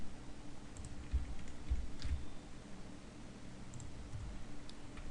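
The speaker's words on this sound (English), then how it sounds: "I'm typing in password 123" Quiet, close typing on a computer keyboard, scattered soft key clicks over a low room hum, no voices.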